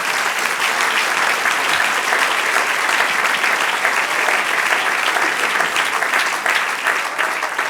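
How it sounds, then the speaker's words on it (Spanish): A church congregation applauds in praise during a Spanish-language service led by a pastor, a dense, steady wash of many hands clapping loudly and continuously for several seconds without a break. "Den un aplauso ahora al Señor"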